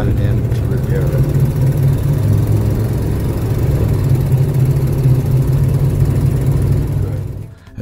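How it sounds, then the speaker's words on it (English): A 1995 Ford E-150 van with a leaking exhaust runs with a steady, loud, low rumble and whir. The sound is close and continuous, then cuts off abruptly at the end. "The exhaust noise, wow, it came back again."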